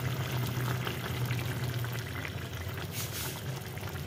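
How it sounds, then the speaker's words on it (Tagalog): Coconut milk is poured into a pot of crab at a rolling boil, giving a soft, steady bubbling and liquid rush, faint and close with no talking. "Ilalagay ko na yung huling gata na naiwan."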